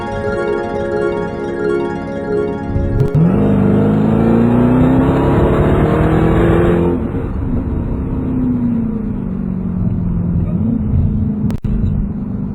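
A Jeep Grand Cherokee Trackhawk engine under wide open throttle, loud and close, revving up then faltering and bogging with hesitant, uneven pitch as it struggles, logged with a P0300 misfire code.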